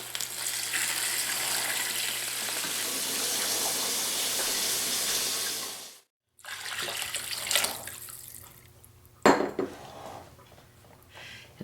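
Water pours steadily from a tap into a roaster pan holding a turkey carcass for bone broth, a sustained splashing hiss that stops abruptly, followed by quieter clinks and a sharp pan clatter.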